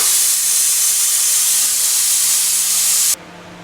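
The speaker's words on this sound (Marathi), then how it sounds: "चला तर आपण एक आता कुकरची शिट्टी काढून घेऊ" Loud, steady steam hissing from a pressure cooker as its whistle is lifted off while cooking raw mangoes, holding for about three seconds and then cutting off abruptly, leaving a faint low hum.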